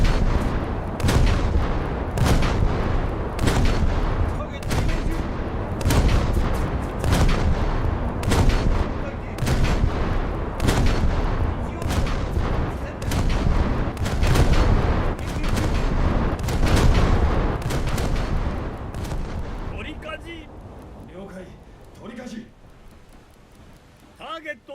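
Naval guns fire salvo after salvo in a naval combat video game, a steady run of heavy booming reports spaced a second or two apart, loud and close, with the barrage thinning out near the end.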